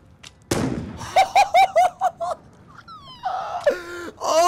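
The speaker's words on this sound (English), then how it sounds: "The fire lit the gunpowder and launched the gun." Gunpowder lit by fire bursts in the VR game Bootstrap Island with one sharp, close pop. A string of wailing, gasping vocal sounds and whistling tones follows.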